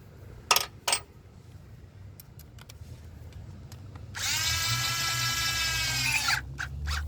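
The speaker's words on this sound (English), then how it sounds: "And now I'm going to tighten these clamps." A small power driver whirs for about two seconds while tightening hose clamps during starter replacement on a 2003 Toyota Avalon 3.0L V6, preceded by a couple of sharp metallic clicks and followed by faint taps, all fairly close and quiet.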